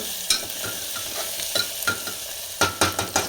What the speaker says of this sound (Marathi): सगळं चांगलं भाजून घ्यायचं। तळला आता चांगला कांदा टोमॅटो।